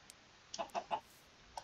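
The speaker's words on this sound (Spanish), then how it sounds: "Mira, ahí está el pollito." A Minecraft chicken gives a few soft, quick clucks in a short cluster, faint and alone against a quiet background.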